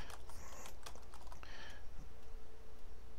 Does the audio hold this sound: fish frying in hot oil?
no